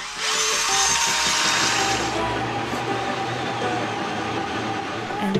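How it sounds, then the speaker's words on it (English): A power drill bores holes through the wooden interior of a sailboat for heater vents and displays, a loud, steady whirring grind that runs continuously close by. "Drill quite an amount of holes in the wood of the boat for vents and displays"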